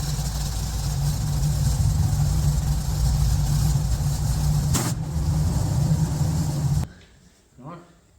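Racing engine idling and blipping while its carburettors are balanced against each other, a loud close steady drone that cuts off near the end, leaving a brief fainter rise of mechanical sound.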